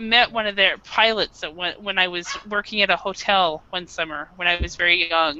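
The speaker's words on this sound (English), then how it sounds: "I do apologize about my dog again." A dog barking in the background while a person talks steadily in the foreground, the barks blending into and mostly masked by the voice.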